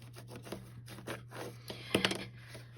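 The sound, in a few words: burnishing paper flaps down on a box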